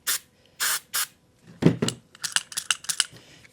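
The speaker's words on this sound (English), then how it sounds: "just spray a little" White lithium grease sprayed from an aerosol can onto a Polaris quad's parts, three short hissing bursts followed by clicks and rattling handling noises nearby.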